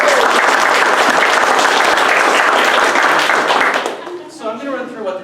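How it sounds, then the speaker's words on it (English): Loud audience applause for the judges at a startup weekend event, a thick burst of clapping for about four seconds that drops off sharply, followed by a person starting to speak. "Let's give our judges a round of applause."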